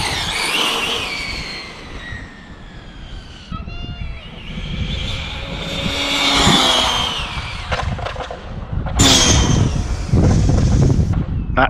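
A Traxxas 6S rally RC car makes fast speed runs, its high-pitched electric motor whine rising and falling loudly with bursts of tyre and gravel noise.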